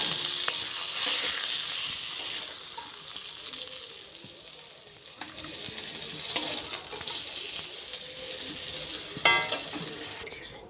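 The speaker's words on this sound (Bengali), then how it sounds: "পটলগুলোকে একটু ভেজে নেব" Pieces of pointed gourd (potol) sizzle steadily in hot oil in a kadai, with occasional stirring clinks and scrapes and no talking.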